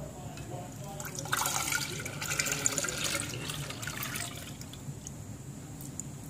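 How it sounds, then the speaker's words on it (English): Milk for homemade yogurt is poured through a strainer in a soft, steady trickle that swells in the middle and then eases off, fairly faint and close. "I'm going to pour in the rest of the milk in here and strain it."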